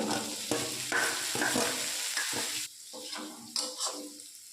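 Mixed fried rice being stir-fried in oil in a kadai, a steady close sizzle broken by repeated scraping and tossing strokes of the spatula, with no one speaking.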